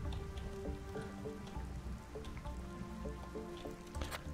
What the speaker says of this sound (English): Okay, here comes the rain.